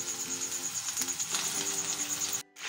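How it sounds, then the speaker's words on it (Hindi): Chicken seekh kebabs deep fry in hot oil: a steady, close sizzle with fine crackling pops throughout, cutting off abruptly at the end. "ऑयल हमारा गर्म हो चुका हुआ है, इसके अंदर हम डीप फ्राई करेंगे।"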